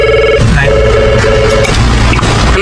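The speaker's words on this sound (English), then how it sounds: "the phone seems to never stop ringing" A telephone rings insistently at a pizzeria in Long Branch, New Jersey, in a Five Nights at Freddy's game, its electronic trill pulsing in repeated bursts over a loud, dense background.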